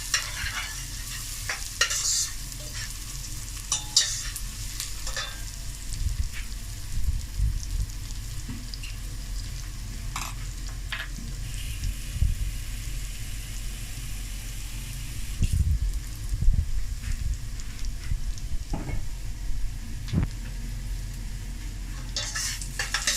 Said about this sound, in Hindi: 2-3 मिनट इसको फ्राई करते हैं और फिर टमाटोज ऐड करते हैं।